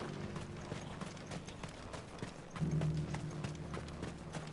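Horse hooves clip-clop steadily at a walking pace in a video game, soft and slightly distant, with faint mechanical clinks and a brief louder swell partway through.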